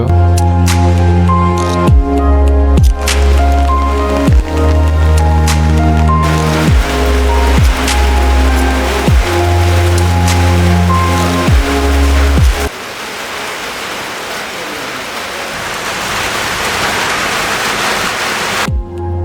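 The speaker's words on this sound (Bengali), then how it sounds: "এই মুহূর্তে বৃষ্টির তীব্রতা অনেক বেশি অনেক দ্রুত বৃষ্টি হচ্ছে" Heavy rain pours down on a village after winter, a dense steady hiss filling the scene, with rhythmic tonal pulses over the first half before the downpour continues alone and loud.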